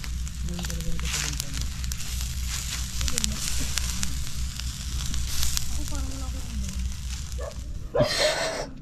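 Pork and shrimp fry in a pan with a steady, loud sizzle and occasional crackles, while voices talk faintly in the background and a brief clatter comes near the end.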